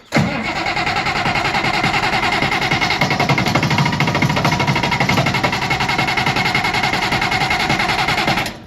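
An Allis-Chalmers 190 XT tractor engine with a badly rusted exhaust runs steadily and loudly for the whole stretch, a continuous rough mechanical drone with no talk over it.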